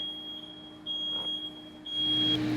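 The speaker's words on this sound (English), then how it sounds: "I've always wanted a way to shut off those pesky fire alarms without getting a ladder out" A smoke alarm sounding a rapid series of high pitched electronic beeps, close and clear over a steady background hum, ending in one longer unbroken tone.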